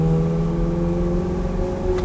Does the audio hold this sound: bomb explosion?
no